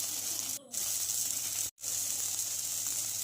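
Spiced masala with coriander powder, salt and turmeric sautéing in a pan for a river crab curry, a constant close sizzling hiss with two brief dropouts.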